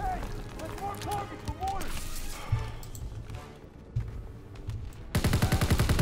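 Gunfire in the World War II shooter game Call of Duty: WW2, with rapid bursts of close, loud shots and a heavier volley near the end, under excited talk from players.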